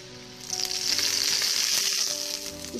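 A fenugreek (methi) paratha fries in oil on a flat pan, producing a loud, even sizzle that swells after a half-second and holds steady close up, with no talking.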